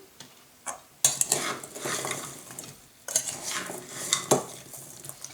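A spoon stirs berries with tapioca and lemon juice in a bowl, giving two bursts of wet clinking and scraping separated by a short pause, close and fairly quiet.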